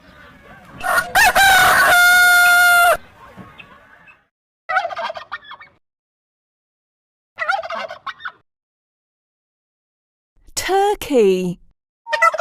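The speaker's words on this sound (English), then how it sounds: "Rooster." Farm rooster and fowl calls come in separate bursts: one long, loud crow near the start, then shorter clucking and gobbling calls spaced apart by silence.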